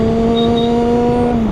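A person vocally imitates a Honda motorcycle engine with one sustained, steady droning hum, close and fairly loud, with a slight drop in pitch at the end.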